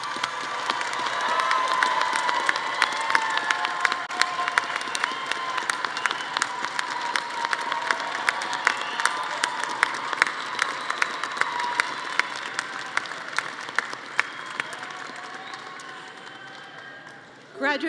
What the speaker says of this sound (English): Will the graduates please stand if you are able and give them a big round of applause.